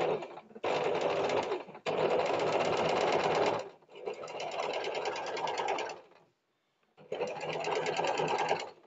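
A sewing machine stitching a boat neck blouse runs in several steady whirring bursts, close and loud, with brief stops between runs and a longer pause near the end; no speech.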